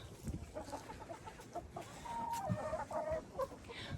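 Chickens, including white Leghorns, a Faverolles and a Marans hen, dust-bathe in sand, with soft scratching and rustling mixed with quiet clucks and a few brief calls in the near background.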